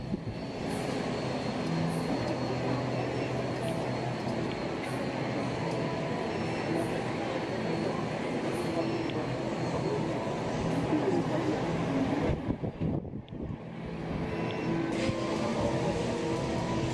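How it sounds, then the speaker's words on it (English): A transport train at Expo 2020 rumbles past steadily for most of the stretch, with a brief dip before the rolling noise resumes, heard over busy background chatter. "I was lucky enough to catch the transport train coming down the bottom."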